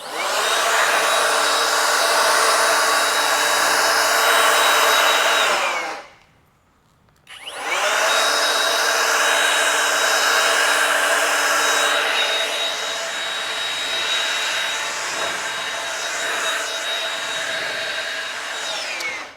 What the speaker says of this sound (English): Let me get my blower out over here.